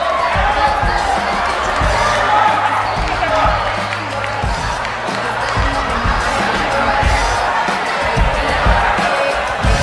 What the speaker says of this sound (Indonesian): Tepuk tangan yang meriah dulu dong.